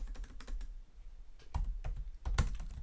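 Quick keystrokes clatter on a computer keyboard nearby in irregular bursts, with a short pause before a louder final flurry of typing.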